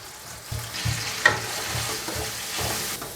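Onions with salt frying in oil in a pan for a dhaba-style beef karahi, a steady close sizzle broken by scraping stirs and soft knocks of a utensil.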